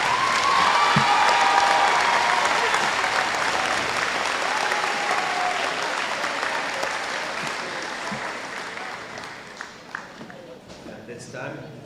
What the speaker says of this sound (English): Let's give a round of applause one more time